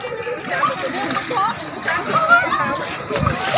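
Splashing and sloshing water as people wade in to play, with lively talking and a voice over the splashes, close and busy throughout.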